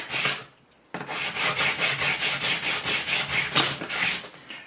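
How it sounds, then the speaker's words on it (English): Sandpaper rubs back and forth over the rough edges of a 3D printed plastic blade in quick, even strokes, close and clear, after a brief pause near the start. "grab my sandpaper over here and just run that a few"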